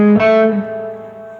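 Single electric guitar note struck once, loud and close, ringing with a bright sustained tone that slowly decays over about a second, opening the intro of a song.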